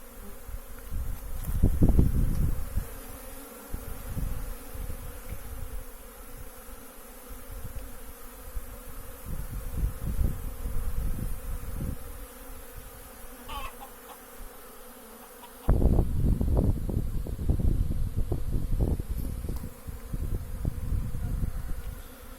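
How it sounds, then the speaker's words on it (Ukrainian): Honey bees of the Ukrainian steppe and Polissian breeds swarm around hives at an apiary on their first spring cleansing flight, making a dense, continuous buzz that stays loud throughout and swells late on, with no one talking. "Пасіка почала гарно облітуватись."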